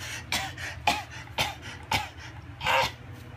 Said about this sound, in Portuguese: A tosse fake dele, ele fica...